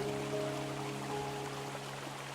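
Steady rain falls with a soft, even patter, accompanied by faint tonal hum in the background throughout.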